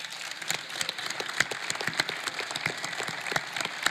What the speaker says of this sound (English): before you're done clapping